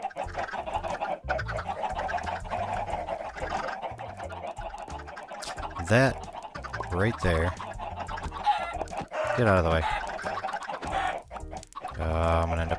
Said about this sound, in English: I'm gonna end up killing all these chickens